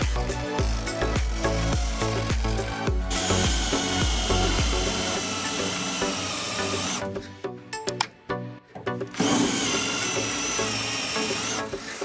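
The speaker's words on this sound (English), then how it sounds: "then drill out the spot welds, and hopefully pull up this old floor" A power drill bores out spot welds on the floor pan of a VW Bus during restoration, with whining drill bursts and grinding metal contact that stop and start in several runs, with short pauses in between.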